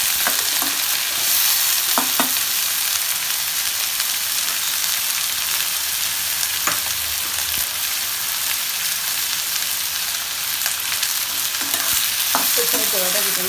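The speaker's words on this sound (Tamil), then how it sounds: "உப்பு சேர்த்து வதக்கிட்டோம்னா சீக்கிரம் வதங்கிடும்." Tomato chutney sautéing in a pan after salt goes in: a steady, dense sizzle of frying with occasional soft stirring scrapes, close and continuous throughout, with no talking.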